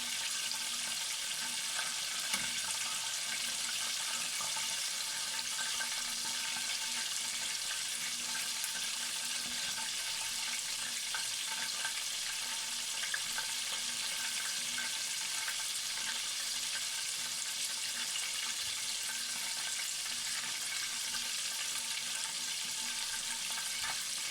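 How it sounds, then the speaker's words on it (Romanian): Pastries frying in a deep oil bath give a steady, dense sizzle that holds evenly throughout, with faint crackles and no voices. "le-am băgat în baie de ulei pentru a le prăji, să fie un pic înspre maro"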